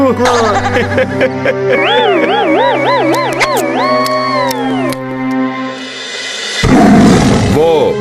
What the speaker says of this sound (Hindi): वो देखो, बाघ आ गया।